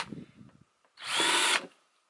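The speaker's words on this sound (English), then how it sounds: "So I'm going to drill these straight in the plastic," Short burst of a power drill boring a small 1/8 inch hole into a plastic five-gallon bucket lid, a brief high whine of about half a second, close and loud, preceded by faint handling noises.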